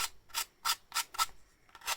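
Sanding a wooden HMS Victory model ship with 180 grit sandpaper: six quick, soft rubbing strokes in an even back-and-forth rhythm, close and quiet.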